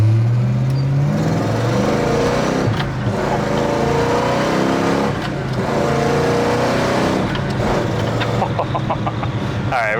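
A 1967 Pontiac GTO engine revs and accelerates hard, a loud, continuous roar rising in pitch with gear changes, heard up close from inside the vehicle.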